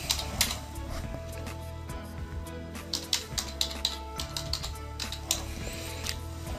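A name is typed on a computer keyboard to log in to an SAP server, heard as a run of light, uneven key clicks over a steady low electrical hum.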